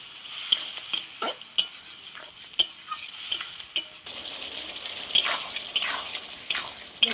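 Fig curry being sautéed with a splash of water in a pan, a spatula scraping and knocking in an irregular rhythm over a bubbling sizzle that grows louder partway through.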